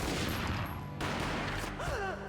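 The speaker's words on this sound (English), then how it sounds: "A gunshot boomed and she fell down in slow motion." A gunshot booms in the Max Payne video game, a sharp burst heard amid game music and effects, with a brief silence and then a dramatic swelling tone.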